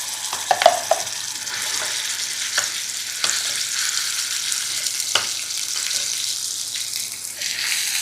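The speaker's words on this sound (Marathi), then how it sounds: "याच्यामध्ये आपण हे वाटण टाकूयात." Ground masala paste goes into hot oil with whole spices for a cashew masala gravy, making a steady close sizzle with bursts of spattering and a few utensil clinks as it is stirred.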